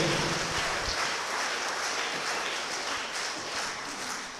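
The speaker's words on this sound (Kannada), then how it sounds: "ಒಂದು ಗಟ್ಟಿ ಚಪ್ಪಾಳೆ ಯೇಸುವಿಗಾಗಿ ಪ್ರಿಯರೇ, ಗಟ್ಟಿ ಚಪ್ಪಾಳೆ, ಸಂತೋಷದಿಂದ ಗಟ್ಟಿ ಚಪ್ಪಾಳೆಯೊಂದಿಗೆ" Loud applause fills a church prayer service, a dense, continuous wash of many hands clapping together that stays strong throughout with no clear voices on top.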